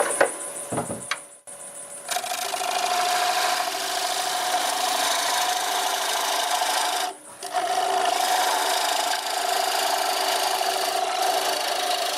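A lathe gouge cuts black walnut on a wood lathe, giving a steady, close, rasping cutting noise with a short opening burst and a brief dip near the middle before the cut resumes.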